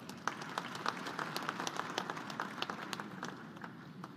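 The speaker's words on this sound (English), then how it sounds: "Can all the youth in the room please clap your hands for the guest of honor?" Young people in a crowded room clap their hands for a guest of honor at an official event in Tanzania. The clapping is dense and steady, with sharper individual claps standing out over the crowd.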